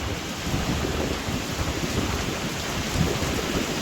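Heavy rain pours steadily with a low, rolling rumble of thunder underneath and strong wind buffeting the microphone, at a resort construction site.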